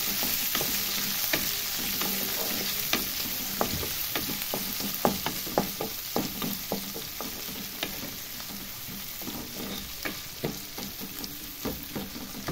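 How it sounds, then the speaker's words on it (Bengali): Two medium onions sizzle in a pan while being stirred for ghugni with peas and potatoes, a steady crackling hiss broken by frequent sharp scrapes and clicks of a spatula. "সামনে একটু ভাজা ভাজা করে নেব পেঁয়াজগুলো।"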